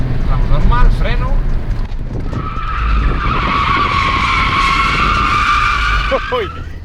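A drift car at a driving school skids into a corner, tyres screeching loudly for several seconds after an engine-heavy approach, with someone talking over the start and end.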